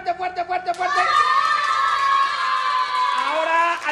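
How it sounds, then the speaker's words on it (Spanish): Children clap loudly in a school, with a quick burst of rhythmic claps that gives way to a sustained, excited chorus of high children's shouts and cheers. "¡Al que aplauda fuerte, fuerte, fuerte, fuerte!"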